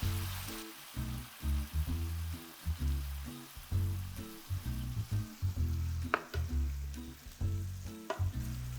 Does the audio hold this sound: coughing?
no